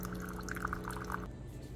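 Hot water from a coffee maker streams into a cup in a quiet, steady pour with light splashy trickling, then stops abruptly.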